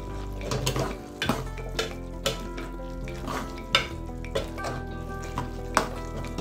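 Colocasia stalk curry mixed with cooked dal is stirred in a pan: a loud continuous sizzle carries repeated scraping strokes of a spoon against the metal, roughly one clunk per second, with no voices.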